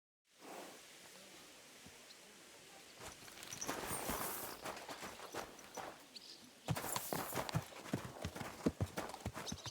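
Horse hooves clip-clop steadily while riding in the Kingdom Come Deliverance 2 video game, starting faint and growing into louder, crisp rhythmic strikes with rustling gear underneath.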